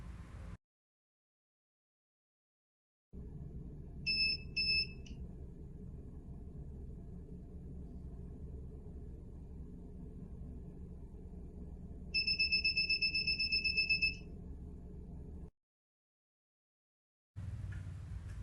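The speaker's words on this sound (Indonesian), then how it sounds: "Jika kartu yang terdeteksi salah 3 kali, maka buzzer akan berbunyi 8 kali." An IoT home security buzzer sounds in two short bursts of shrill electronic beeping over a steady low rumbling hum, the second burst longer than the first.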